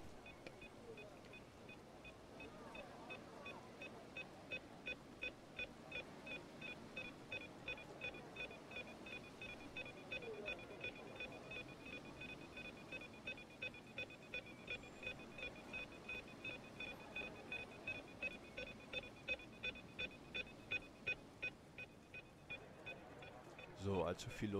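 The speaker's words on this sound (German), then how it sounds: "Das Gepiepe geht einem auf den Keks, aber naja, kann man nicht ändern." Inside an ICE 4 train between Offenburg and Karlsruhe, short high beeps repeat at a regular, insistent pace over a low rolling rumble, growing denser toward the end.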